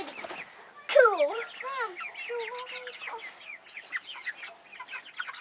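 Pet bird Plucky clucking and chirping close by, a quick run of varied short calls and chatter after a brief quiet start, with a voice speaking faintly in the background.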